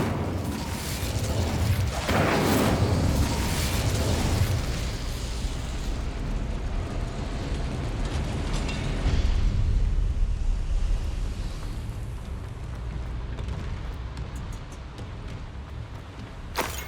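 Incendio fire spell cast in Hogwarts Legacy, a loud roaring whoosh and rumbling burst of flame that swells, holds, then fades over many seconds, with no talk.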